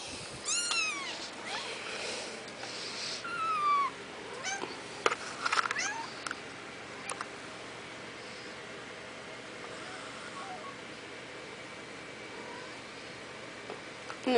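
Several cats meow indoors, with short, faint, high calls scattered through the first half and quiet room tone afterward.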